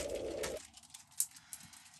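Racing pigeons cooing in a loft, a soft low murmur that cuts off after half a second, followed by faint scattered chirps and small sounds at a quiet distance.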